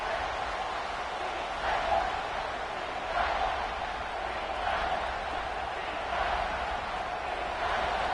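Steady roar of a home football stadium crowd at a USC game, sustained throughout with periodic swells of louder cheering during a goal-line defensive stand.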